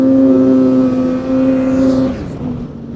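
Polaris Pro S 800 snowmobile engine running close by at a high, steady pitch with a strong tonal whine, then dropping off abruptly as the throttle closes, leaving a lower idle-like drone.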